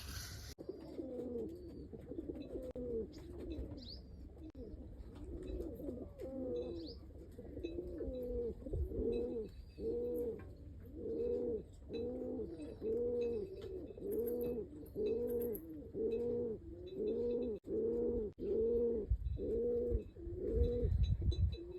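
Pigeons eating grain coo over and over in a steady, rhythmic series of low throaty calls, close by, with a few faint chirps in the background.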